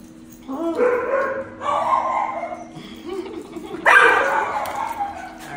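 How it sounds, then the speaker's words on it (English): Two schnauzer puppies bark and yip in short bursts at close range, with a louder outburst near the end, while people talk nearby in a grooming setting. "Just these two puppies."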